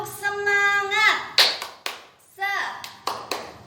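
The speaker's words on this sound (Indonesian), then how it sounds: "Tepuk semangat." A fourth-grade class does a spirit clap, children chanting in unison with a few sharp, synchronized claps landing between the bursts of voices, close and loud.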